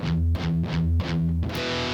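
Distorted electric guitar chugging palm-muted E pedal tones in a riff, a steady run of tight, heavy repeated notes with brief accented breaks, loud and close, with no talking.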